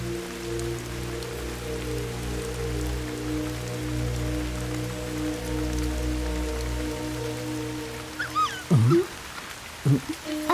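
Steady rain falling outdoors, an even patter filling the whole span beneath a low, sustained drone, with a few sharp whining or squeaking sounds near the end.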